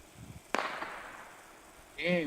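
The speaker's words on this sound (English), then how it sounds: "the sounds of gunshots can be heard echoing from the forest" A single sharp gunshot crack, heard from a played recording of shots echoing from a forest, lands early and decays into a faint echoing tail, followed by a voice reacting.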